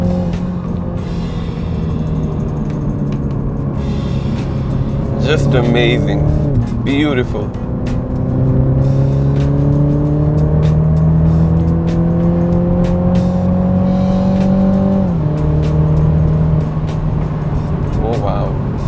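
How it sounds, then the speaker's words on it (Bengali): A 2019 BMW Z4 accelerates with a smooth rising engine and exhaust drone that climbs through the gears with brief shift dips, loud and close inside the cabin, while someone speaks admiringly over it. "তো আমরা একটা এক্সস্ট নোট শুনি, beautiful 12 speaker premium Hermann garden sound system থেকে।"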